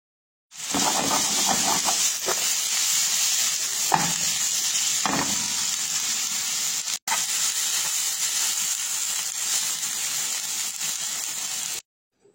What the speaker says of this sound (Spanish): las voy a poner a freír con poquito aceite y las voy a dejar que se frían